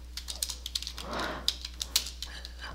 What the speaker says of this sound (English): can't type today, Billy Bob,